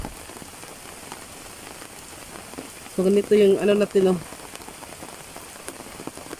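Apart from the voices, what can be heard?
heavy rain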